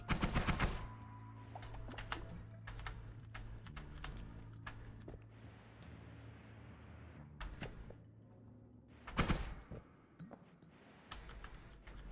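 Rapid bursts of sawblade machine gun fire in a shooter video game, sharp clattering volleys with short gaps and a loud final burst, no talking.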